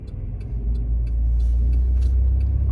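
Cars pass through a busy, congested intersection on Black Friday, heard as a steady low engine and road rumble from inside a vehicle, swelling slightly as traffic moves, with no talking.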